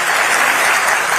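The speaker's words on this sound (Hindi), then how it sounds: "एक बार और जोरदार ताली बजा करके" Audience at a government appointment-letter ceremony in Lucknow applauding loudly: a dense, steady wash of clapping from a crowd, close and continuous for the whole short moment, with no speech over it.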